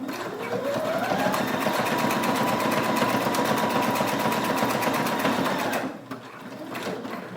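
A sewing machine stitches elastic onto a homemade fabric mask, whirring in a fast, steady rhythm close by for about six seconds before stopping, followed by a quieter, lighter run of stitching.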